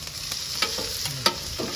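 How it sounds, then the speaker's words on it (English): Steady frying sizzle of pastrami on a hot griddle, with a few sharp clicks and scraping sounds rising above the constant hiss. "Frying is good."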